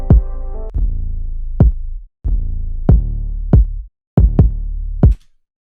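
Deep kick drum layered with a long 808 bass tail, struck in a loose rhythmic pattern of about a dozen hits, each boom sustaining and decaying, loud and upfront with no talk.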